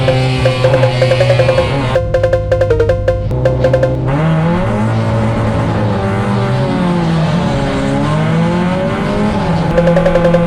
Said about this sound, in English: As you see from my start, I just had insane wheel spin.